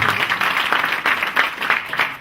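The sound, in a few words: audience clapping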